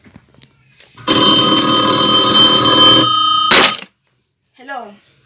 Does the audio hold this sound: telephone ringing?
yes